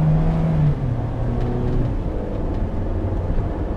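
A 2010 VW New Beetle with a 2.0 engine accelerating, its engine note rising steadily as heard from inside the car, a continuous moderate hum with no talk.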